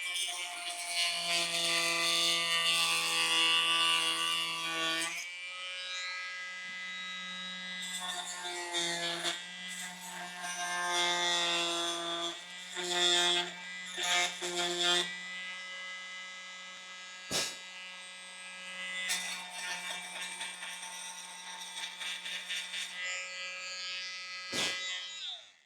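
A Dremel rotary tool whines at a steady high pitch as it cuts off an old wooden dowel in an antique chair, running in bursts with short pauses and changes in pitch, then tapering into brief, sparse touches.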